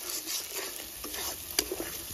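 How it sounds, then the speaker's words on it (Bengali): A spice masala fries in a pan at home while a spoon stirs it, giving a soft sizzle with light scraping clicks close by. "মশলাটা খুব ভালো করে কষানো হয়ে গেছে, আর এই যে মশলার গা থেকে তেল ছেড়ে দিয়েছে।"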